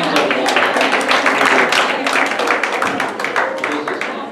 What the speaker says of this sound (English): Clap your hands over there.